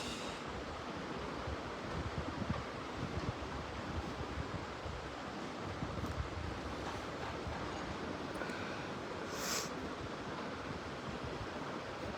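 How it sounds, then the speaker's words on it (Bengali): Steady pre-rain wind rushing outdoors, a constant broad roar with mild gusting and a few faint higher noises, no voices. "তাই এত বাতাস।"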